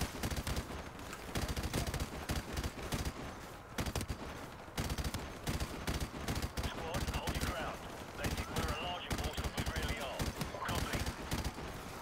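Rapid, continuous gunfire and explosions from the video game Call of Duty Modern Warfare Remastered, with dense bursts of automatic weapon shots and booms filling the whole stretch at high volume.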